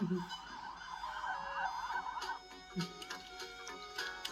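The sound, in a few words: fire truck siren from a toy flashcard reader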